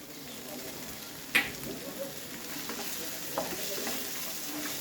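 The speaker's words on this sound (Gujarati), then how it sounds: "મસાલા આપણે સારી રીતે સાંતળી લઈશું" Spices sautéing in hot oil for a leftover-rice vaghar, turmeric, chilli and pickle masala in the pan, a steady soft sizzle with one sharp stirring clink near the start and small scrapes later.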